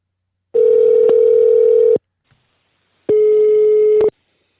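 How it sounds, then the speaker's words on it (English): Two long bursts of a telephone busy tone sound after a number is dialed, each steady and loud for over a second, separated by a short silence. "we're going to give him a call and see if he'll answer"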